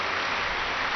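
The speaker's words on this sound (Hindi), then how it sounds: "ताली बजाओ ना" A spiritual gathering's audience claps together, producing a short, dense, even burst of applause with no pauses.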